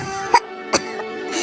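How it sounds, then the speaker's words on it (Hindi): Two short, sharp coughs sound close by, spaced a moment apart, against a quiet background hum. "ये कैसी खांसी है?"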